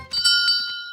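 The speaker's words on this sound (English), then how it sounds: "Yeah, I know the bell sounded like it's that way" A cartoon race checkpoint bell, rung in a few bright, ringing strikes whose tones hang and slowly fade, close and clear with nothing else heard.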